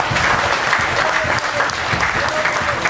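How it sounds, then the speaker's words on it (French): An audience claps for young performers at a show, dense steady applause throughout with some voices mixed in beneath it. "Voilà, on peut les applaudir."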